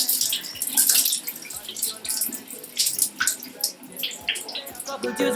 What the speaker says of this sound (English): now I'm going to wring out as much water as possible